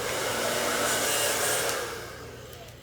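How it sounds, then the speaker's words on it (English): A hair dryer running on a higher speed setting to dry long hair, a steady close whooshing roar that eases slightly toward the end. "you can put it on a higher speed to make the hair dry and go a little bit quicker."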